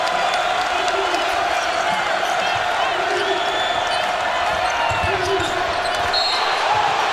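Arena crowd at a Houston vs LSU college basketball game roars steadily throughout, a dense, continuous wash of cheering with ball bounces and court noise underneath.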